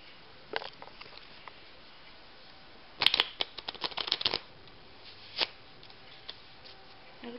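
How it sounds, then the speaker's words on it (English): Crisp flurry of card riffling, a brief clustered burst of rapid ticks followed by a few isolated snaps, fairly quiet in a still room. "Now I'm just gonna take this deck, separate it, and just shuffle it"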